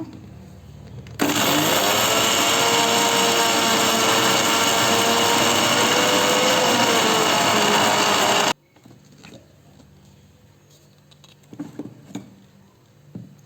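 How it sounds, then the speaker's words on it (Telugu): A mixer grinder whirs loudly and steadily for several seconds grinding garlic, chili and turmeric, then cuts off, leaving quiet clatter and a few knocks. "అన్నీ వేసేసి మిక్సీ పట్టుకుంటున్నాను"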